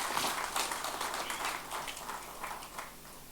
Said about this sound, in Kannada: ಸ್ವಲ್ಪ ಜೋರಾಗಿ ಚಪ್ಪಾಳೆ ಹೊಡಿಬೋದ್ರಿ.